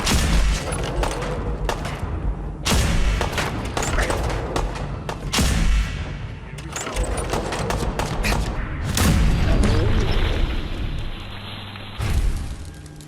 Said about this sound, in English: This laser musket is one of our signature weapons in the game. You crank it and then let it loose.